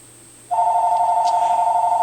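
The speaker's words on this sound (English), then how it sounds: "And there's the phone." A telephone starts ringing about halfway through, a steady, loud electronic ring that holds continuously to the end. Before it there is only quiet room hiss, with no talk over the ring.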